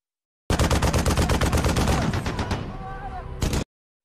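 Dense, rapid gunfire from the war film Mosul, with machine-gun bursts and sniper shots rattling loudly and continuously, thinning briefly before a final burst near the end.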